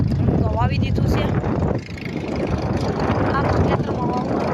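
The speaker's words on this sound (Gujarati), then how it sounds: "અમે ટ્રેક્ટર હાલે છે." A tractor engine drones steadily and close while sowing groundnut in a farm field, a continuous low rumble with faint voices above it.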